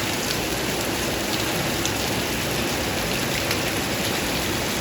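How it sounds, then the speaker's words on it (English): Very heavy rain pouring down steadily, a dense, loud and continuous roar of drops drumming on surfaces, close and unbroken throughout, with no voices. "It was indeed a heavy rain, a very heavy rain, and I loved it."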